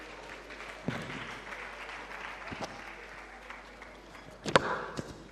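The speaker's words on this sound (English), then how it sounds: "I believe we can make the applause a bit louder for the Honorable Minister." An audience at a government press briefing in Abuja gives faint, scattered applause for a minister, a thin patter with a few louder knocks and one sharp bang near the end, plus a voice in the background.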